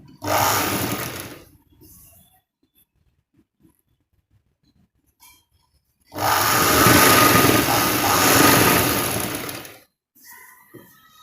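A sewing machine stitches a saree edge in two runs, a short burst and then a longer steady whir of about four seconds, loud and close, with quiet gaps between.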